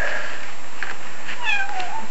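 A cat meows close up and loudly, giving a couple of rising, drawn-out cries in a quiet indoor room.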